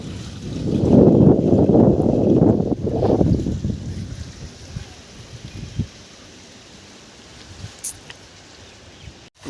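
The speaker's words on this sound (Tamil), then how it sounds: "ஒன்றரை இன்ச்சு டெலிவரி ஒரு மூணு அடி தூரத்தில் போய் தண்ணி நல்லா விழுந்துட்டுருக்கு ஃபோர்ஸாக" Water from a 1.5-inch delivery pipe on a BLDC borewell pump gushes forcefully onto the ground about three feet out, a loud broadband splashing rush at first that fades to a quieter steady trickle, heard outdoors with light wind.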